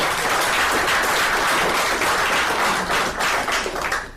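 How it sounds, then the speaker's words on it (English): A support group meeting audience gives a round of applause, dense steady clapping from a room of people that holds loud for about four seconds before thinning slightly at the end. "Let's give him a round of applause"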